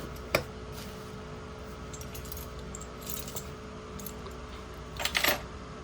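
Bunch of keys jangling while being tried in a key safe box, with a sharp metallic clink at the start and a louder rattling burst near the end over a faint steady hum.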